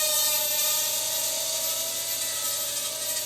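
A Hubsan X4 quadcopter drone hovers close by, its tiny rotors giving a steady high-pitched whine with a bright tonal buzz that holds level throughout.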